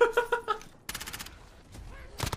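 Bursts of automatic gunfire and headshot hits in the shooter Warzone, arriving in rapid rattling volleys separated by short gaps, loud and close within the game mix.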